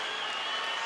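A boxing crowd in Las Vegas cheers and applauds at the 2006 Shane Mosley vs Fernando Vargas rematch, a brief, dense, loud wash of clapping and crowd roar.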